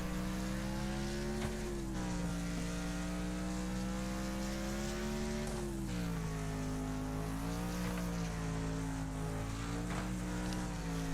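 Race car engines in the video game Wreckfest drone steadily throughout, with harmonic pitch shifting as cars rev and ease off, one running close behind another in a C-Class online race; no talking.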